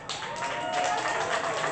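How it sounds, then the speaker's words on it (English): An audience at a poetry slam applauds, a dense, steady wash of clapping from a crowd that holds its level throughout, with a voice speaking over it. "Keep the applause going"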